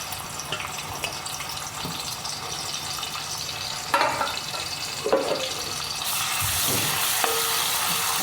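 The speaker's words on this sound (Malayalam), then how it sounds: "സമയത്ത് നമുക്ക് ആ ചതച്ച് വെച്ചിരിക്കുന്ന ഉള്ളി ഇട്ട് കൊടുക്കാം." Crushed onion hits hot oil in a pan, and a bright broadband sizzle swells up about two-thirds of the way in, after a stretch of clinks, scrapes and soft kitchen handling noises.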